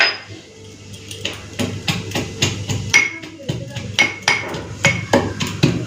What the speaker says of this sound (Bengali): রসুনের কিছুটা ছাড়াতে হবে। চলুন এটাকে একটুখানি থেঁতো করে নিই।